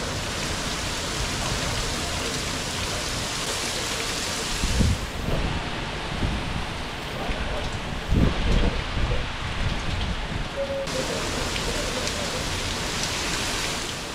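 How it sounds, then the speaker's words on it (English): Steady rain pours down throughout, a dense hiss with a couple of brief gusty swells in the middle and no voices. "Nothing crazy yet, but rain is coming down, man."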